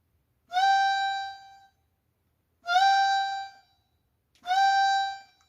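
Three short, separate notes on an Aerophone electronic saxophone, each with a quick, clean pitch bend up and back down, played loud and close with pauses between them and no talking.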